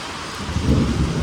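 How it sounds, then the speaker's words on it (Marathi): Heavy monsoon rain drums steadily on a tin sheet roof, a dense continuous roar with low rumbling swelling louder midway. "वरती पत्र्याचा आवाज जास्त येतो."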